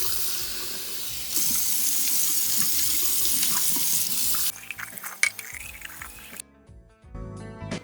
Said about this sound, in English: Then I just take it to the sink and rinse these each out.